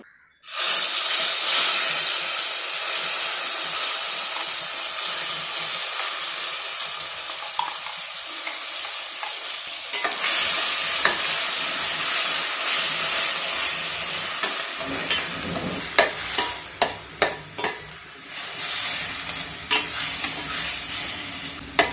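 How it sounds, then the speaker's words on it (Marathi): Onion paste sautés in oil over a low flame for a dhaba-style rajma, a steady loud hiss and sizzle that later breaks into repeated scraping stir strokes near the end. "मंद गॅसवरती सतत हलवत कांद्याची पेस्ट आपण गुलाबी रंगावरती आणि तेल सुटेपर्यंत चांगली परतून घेऊ"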